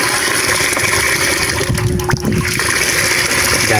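Water gushing hard from a newly replaced pump motor, a loud steady rush of splashing flow running the whole time, with a brief burst of splatter midway.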